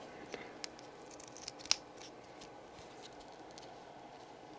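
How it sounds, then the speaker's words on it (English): Scissors or a blade cut open tape on a trading card package, making a few faint, sparse snips and clicks close by in a quiet room, with one sharper snip standing out. "Just had to crack the tape a little bit."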